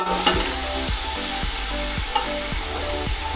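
Two medium onions, washed and chopped, frying in hot oil in a pan for vegetable pulao, with a constant sizzle and a regular series of thudding stirs, close and steady with no talking.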